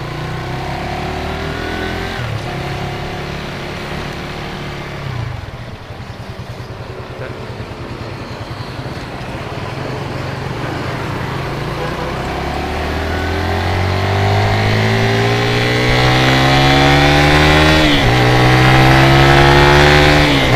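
A fuel-injected Suzuki FU 150 motorcycle engine, fitted with a Honda 200cc 12-hole injector, revs loudly and close by. Its pitch dips, then climbs in a long rising rev near the end, with no talking.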